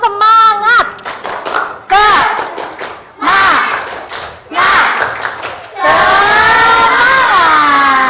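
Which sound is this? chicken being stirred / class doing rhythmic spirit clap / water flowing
class doing rhythmic spirit clap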